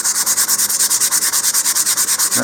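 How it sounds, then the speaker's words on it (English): Steady rhythmic sanding of a model rocket, quick back-and-forth strokes of fine 150-grit sandpaper rubbing over a surface, close and continuous with no talking. "I'm going to then make a finer sanding here"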